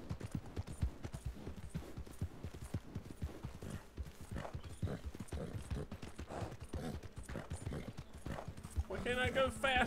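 A horse's hooves beat in a brisk repeating clip-clop during a video game ride, close and continuous, with a voice talking over the gait toward the end.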